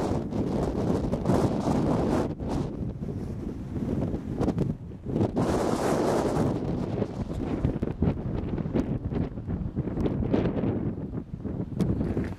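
Stormy, gale-force wind roars across a mountain saddle on Evia, Greece, a loud continuous buffeting that batters the microphone in gusts throughout, with no voice heard.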